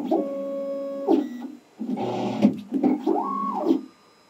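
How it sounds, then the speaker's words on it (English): A MakerBot Replicator 3D printer with an intermittent carriage fault prints, giving off stepper-motor whines that rise and fall in pitch, short pauses between moves, and a moderate, close mechanical buzz. "it's definitely not a fast printer"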